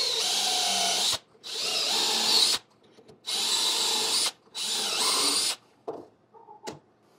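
A power drill boring dowel holes into wood through a dowel jig, four loud whining bursts of roughly one to one and a half seconds each separated by short pauses, then a few light handling knocks.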